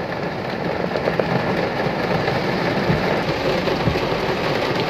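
Heavy rain falls hard and unbroken in a flood-prone riverside area, a dense, loud, steady roar with scattered drop impacts and no voices.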